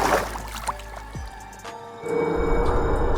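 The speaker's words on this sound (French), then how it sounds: "Je déteste ce bruit, mais je sais que c'est le bruit des grottes." Cave ambience in a horror video game: a low, murky drone with watery, dripping textures and a few faint tonal swells, steady and moderately quiet with no voices.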